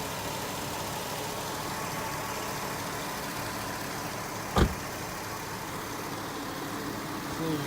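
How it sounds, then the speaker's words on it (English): A 2006 Chevrolet Tahoe Z71 idles in a smooth, steady drone with a single brief thump partway through, heard fairly close with no talking. "It starts up great. You do occasionally get the lifter noise in this vehicle."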